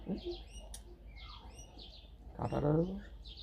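A captive myna bird gives a series of short, bright chirps and whistled calls close by, with a brief low, voice-like murmur in the middle.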